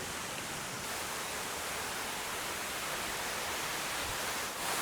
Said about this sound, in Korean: 확실히 폭포가 떨어지니까